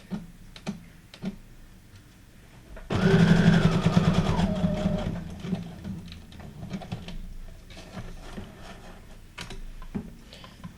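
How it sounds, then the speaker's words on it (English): A sewing machine runs a short zigzag stitch, a loud mechanical whirring burst of about two seconds with quieter ticking and handling sounds before and after. "I'll just use like a little zigzag stitch for that"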